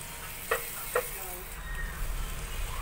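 Butter melts in a pan for pasta sauce, giving a soft, steady sizzle that follows two brief clicks of utensils near the start. The sound is fairly faint and close.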